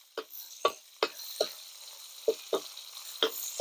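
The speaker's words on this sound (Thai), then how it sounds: "มื้อนี้ทอดจักรจันทร์น้อย" Young cicadas frying in a pan: a soft sizzle runs beneath a series of about nine sharp, separate clicks and taps, probably spoon or spatula strikes against the pan, spaced irregularly across a few seconds.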